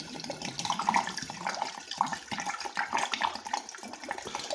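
Distilled molasses spirit trickling and dripping through a carbon filter, a close, steady watery patter with irregular small splashes and no voices.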